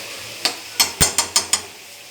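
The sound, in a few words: stirring a vegetable mix in a pan on the stove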